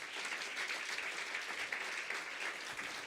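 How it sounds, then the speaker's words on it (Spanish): Congregation applauding in a church service for a beloved brother, a dense, even roar of clapping that carries on steadily at a moderate distance. "Fuerte el aplauso, amado hermano"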